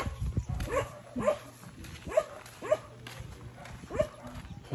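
A small rat dog lets out about five sharp, separate barks spread unevenly across a few seconds, moderately faint against a low background hum.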